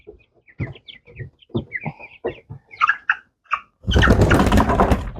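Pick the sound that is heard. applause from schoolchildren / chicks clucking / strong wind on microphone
chicks clucking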